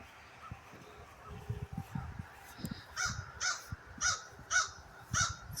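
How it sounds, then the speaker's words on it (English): A crow caws repeatedly in a steady series of five or six harsh calls in a garden with peanuts set out, moderately near, following faint rustling and handling noises. "That's a crow telling me to move away from the peanuts so they can eat them."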